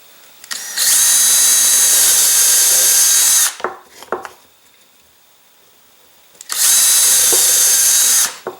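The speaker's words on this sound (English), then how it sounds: "I'm just going to get started by drilling each of these three holes to a pilot hole" A power drill bores pilot holes in wood in two loud, steady bursts of about three seconds each. Between the bursts there is a quiet gap with a few small knocks.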